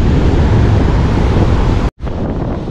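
Loud, strong early-morning wind at an outdoor fishing spot blasts across the microphone in a dense roar, briefly cutting out near the end before resuming a bit quieter.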